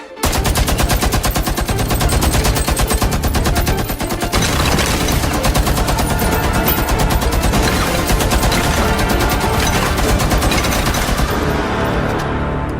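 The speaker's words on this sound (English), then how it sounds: "LMG mounted, hand loaded" A mounted light machine gun in a video game fires a loud, unbroken stream of rapid shots for around eleven seconds, with no voices over it.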